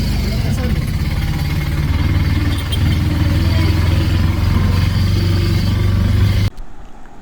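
An auto-rickshaw engine idles and runs with a steady low throb, rattling and shaking continuously nearby, then cuts off abruptly near the end.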